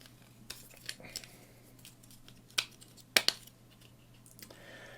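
A part of a plastic Hello Carbot Brontero transforming toy is folded back, giving several small, sharp plastic clicks and snaps, close but quiet, with a couple of crisper clacks near the middle.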